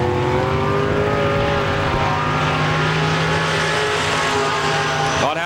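Late model race car number 11 on the Pennsylvania Motor Speedway track near Pittsburgh, its loud engine drone holding steady, then a quick rising rev near the end. Faint announcer talk runs underneath.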